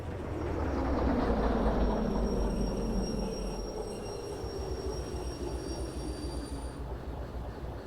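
Train cars roll along the track in the Derail Valley simulation game, with a steady rumble of wheels and faint high squeals, loud at first and then easing slightly with no talking.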